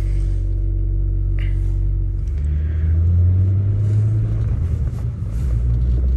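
A car with a manual gearbox is driven, its engine a loud, steady low rumble from inside the cabin that rises in pitch midway as it accelerates, with no voices.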